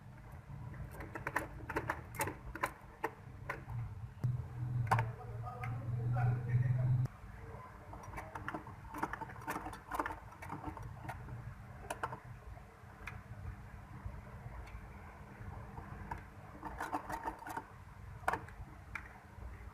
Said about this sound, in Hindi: इस साइड से इतना सा हमने इसको इधर रखकर सिलाई लगानी है